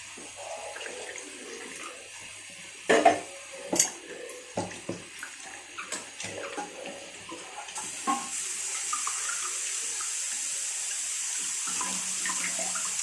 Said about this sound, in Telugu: కొన్ని వాటర్ పోసుకొని